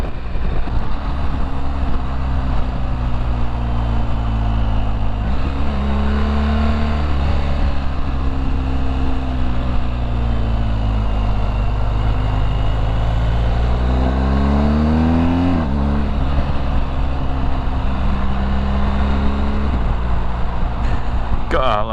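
2020 BMW R 1250 GS motorcycle engine droning and revving through repeated quick-shifter gear changes, pitch climbing and dropping over wind rush, close and loud throughout.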